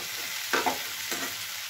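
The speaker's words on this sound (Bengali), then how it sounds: "দেখো এটা সবজির মধ্যে দিয়ে নাড়াচাড়া করে নিলাম।" Vegetables for a mustard-and-poppy-seed chorchhori are stirred in a pan, giving two short, rough scraping strokes about half a second apart over a low, steady background hiss.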